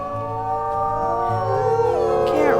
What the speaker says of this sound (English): I wanted to howl.